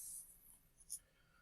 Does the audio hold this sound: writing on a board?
yes